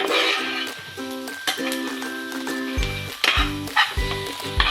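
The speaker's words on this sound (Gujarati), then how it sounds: "આપણે ડુંગળીનો કલર સોનેરી કલરનો ન થઈ જાય ત્યાં સુધી આપણે આને ચડવા દેવાનું છે" Chopped onions cook in a pan toward golden brown for Gujarati onion parathas, giving a steady close sizzle with occasional clinks of stirring, backed by sustained tonal sounds.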